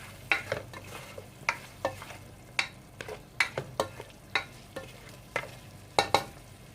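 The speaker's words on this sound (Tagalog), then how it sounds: "Haluin lang po natin ng konti." A spoon stirs creamy chicken sopas in a pot, making a run of about a dozen sharp scraping clinks at uneven intervals over a soft sizzle, with no talking.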